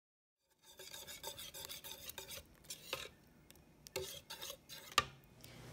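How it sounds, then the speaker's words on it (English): Eggs and other wet ingredients for chocolate chip banana bars are stirred together in a bowl, giving quiet, close scraping and rubbing strokes in an uneven rhythm, with a sharper clink near the end. "we're just going to mix this on all together."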